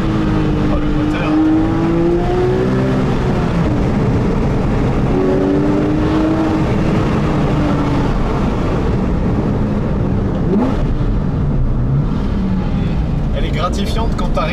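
Porsche 997 GT3 RS 4.0 engine heard from inside the car while driving, a loud, continuous engine roar with rising and falling revs through gear changes, while people in the car talk.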